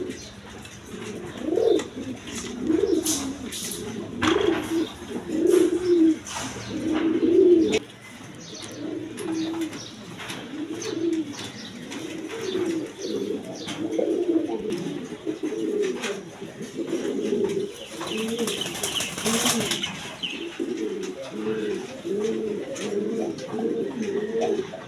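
Pigeons cooing continuously in a loft of fancy show pigeons, a steady overlapping chorus of soft throaty coos with occasional chirps and rustles, fairly close and without talk.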